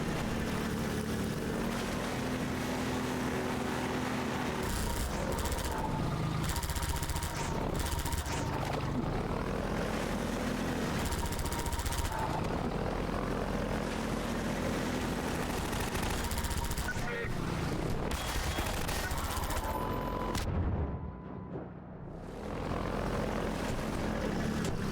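A helicopter battle in the Half-Life 2 combat arena roars steadily for about twenty-five seconds, with dense rotor and engine rumble mixed with bursts of gunfire. A brief lull comes near the end before the noise resumes.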